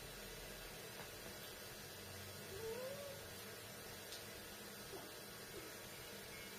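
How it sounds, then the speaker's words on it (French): A cat in heat gives a single faint, drawn-out meow that rises and falls, heard at a distance over a steady background hiss. "j'ai un chat qui est en chasse et j'ai un autre qui est malade"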